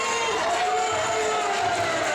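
Electric crowd at a MayhemMania 2 wrestling show in Bacchus Marsh, Australia, roaring and cheering continuously as a competitor takes a big win, with a steady dense wash of voices and a few higher shouts rising above.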